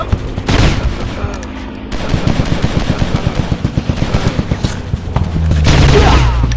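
Rapid bursts of gunfire from the Commando video game, a dense crackling volley of repeated shots with a few heavier booms, loud and continuous, while someone shouts excitedly in between.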